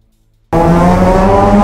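A rear-wheel-drive car driven hard by Keiichi Tsuchiya bursts in after a half-second of silence, with a loud, close, sustained engine roar and a tire squeal.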